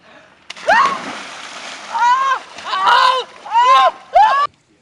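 People plunge one after another into a lake at a charity support event, producing four or five loud splashes in quick succession, with crowd cheers and voices rising around each plunge.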